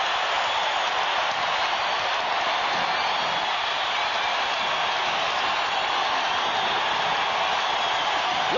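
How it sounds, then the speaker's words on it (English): Basketball crowd roaring at the Delta Center during an NBA Finals game, a dense, steady wall of cheering and applause filling the whole arena without a break. "Listen to this crowd at the Delta Center."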